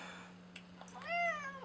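A domestic cat gives one close, clear meow that rises and then falls, against a low steady hum and faint room noise.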